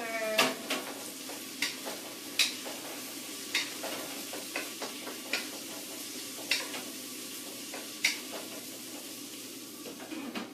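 Chopped bok choy fries in a pan with a steady sizzle while a utensil stirs it, producing sharp scraping clacks against the pan at irregular intervals, up close and without talking.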